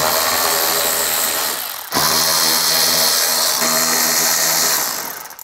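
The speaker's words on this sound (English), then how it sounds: "We're going to start by taking out our fender liner screws here." A power tool runs steadily while backing fender liner screws out of a VW GTI, a continuous whirring whine with a brief dip near the two-second mark before it picks back up, close and loud with no talking.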